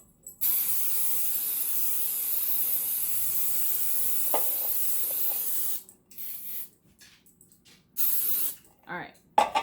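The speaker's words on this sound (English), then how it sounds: "Go ahead and use cooking spray and coat your pan pretty well," Cooking spray coating a bundt pan, one long steady aerosol hiss close by, then a few shorter spurts with brief pauses between them.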